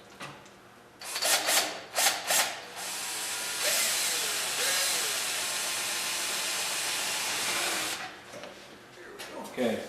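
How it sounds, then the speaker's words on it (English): A 3/32 drill bit bores a hole through a boot cowl panel, a steady high whine lasting several seconds after a few short bursts, with light handling noise before and after. "drill from the other side with a 3/32 drill"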